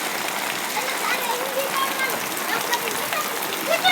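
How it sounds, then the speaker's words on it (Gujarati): Heavy rain pours steadily over open farm fields, a dense, continuous hiss of falling water close around the listener with no breaks across the whole stretch. "પેલી બાજુ વરસાદ તમે જો કેટલો વરસે છે"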